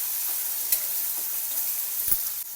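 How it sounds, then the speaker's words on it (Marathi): Cumin, peanuts, chopped green chili, crushed garlic and sliced onion sizzle steadily in hot oil in a pan, a continuous close frying hiss broken by a few stirring knocks and scrapes. "थोडे जिरे, शेंगदाणे, कापलेली हिरवी मिरची, ठेचलेला लसूण, कापलेला कांदा चांगलं भाजून घ्यायचं याला तेलामध्ये"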